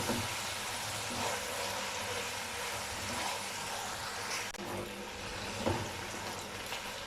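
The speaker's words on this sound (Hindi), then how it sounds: "अब इसमें टमाटर डालेंगे। टमाटरों को 2 से 3 मिनट तक फ्राई करेंगे।" Tomatoes frying with ginger and garlic in a pan for chana dal fry, a steady soft sizzle running evenly throughout with occasional faint stirring clatter.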